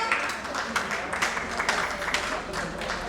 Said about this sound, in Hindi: सचिन जी के लिए तालियां